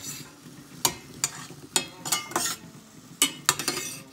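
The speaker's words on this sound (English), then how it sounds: "starts sizzling at this temperature, and I guess by now I can just start stirring it" Sliced zucchini sizzles steadily in a hot pan while a utensil stirs it, with sharp scraping clinks at irregular intervals over a constant frying hiss, close and moderately loud, no talking.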